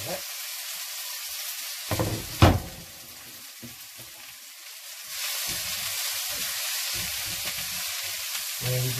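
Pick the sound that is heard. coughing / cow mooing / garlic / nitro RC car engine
garlic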